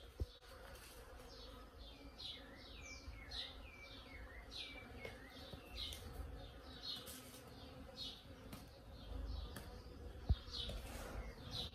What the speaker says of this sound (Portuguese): Agora o barulho da abelha tá mais forte.